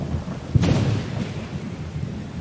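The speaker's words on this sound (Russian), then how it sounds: "Чего себе там гроза?" Thunderstorm in the video game Skyrim: a low rumbling thunder roll with one sharp crack near the start over a steady wash of rain, moderately loud and without talk.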